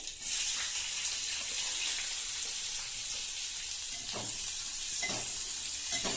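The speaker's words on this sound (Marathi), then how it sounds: "इथे आपल्याला कांदा फ्राय करून घ्यायचा आहे" Onion sizzles and fries steadily in hot oil with cumin seeds and curry leaves for a Maharashtrian besan pithla, a continuous bright crackle with a few soft stirring knocks, close and alone.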